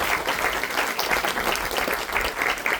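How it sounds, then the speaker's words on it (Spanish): A church congregation breaks into applause during a Spanish-language sermon, a loud, sustained roar of many people clapping together, steady from start to finish with no voice on top. "Démosle un fuerte aplauso a nuestro Dios por esto que Él ha hecho."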